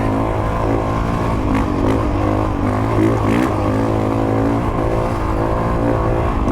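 Dirt bike four-stroke engine revved hard like a two-stroke on a trail ride, a loud, close, continuous buzzing roar with rising and falling pitch swells throughout.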